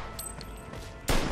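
Gunfire in the video game Mafia II, a short burst of shots cutting in sharply and loudly after a second of quieter game ambience.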